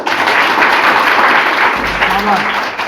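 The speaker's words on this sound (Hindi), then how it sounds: "एक बार जोरदार तालियां बजाइए।" Loud crowd applause at a cyber security workshop fills the whole stretch, a dense continuous wash of clapping with some voices mixed in.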